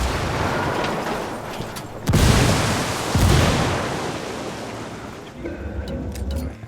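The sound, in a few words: frag grenade explosion in video game Ghost Recon Wildlands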